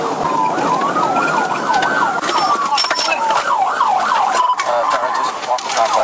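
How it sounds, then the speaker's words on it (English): Police car siren wailing during a pursuit, a loud rising-and-falling electronic wail that cycles repeatedly, briefly switching to faster yelps, over passing road noise. "They promptly activated their sirens and initiated a pursuit."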